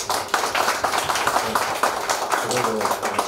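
An audience claps for chairman Ahn Jeong-il at an opening ceremony for a Busan broadcasting bureau, with sharp, dense, close-up applause running steadily throughout.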